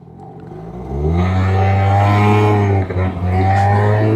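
A 50cc two-stroke Piaggio scooter on a scenic road in New Zealand buzzes close and loud, its engine climbing in pitch and then holding a steady, rising drone with a brief dip.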